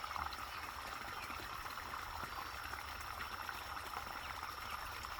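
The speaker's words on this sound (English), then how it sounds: "You can still hear some water coming over from the farmer's" Floodwater spilling over from a farmer's pond makes a steady, faint hiss and trickle, continuous and distant, with no voices.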